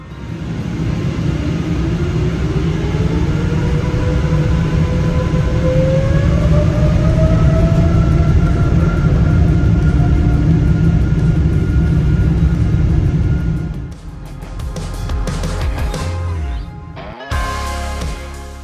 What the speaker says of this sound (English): the spool up of the GE90 engines is literally one of my favorite sounds on Earth